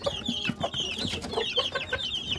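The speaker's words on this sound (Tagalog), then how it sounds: "Ang gaganda ng sisiw." Young Rhode Island Red chicks, about a day old, cheep in a busy chorus of overlapping high peeps, close and fairly loud, with lower clucking from hens mixed in and no talk.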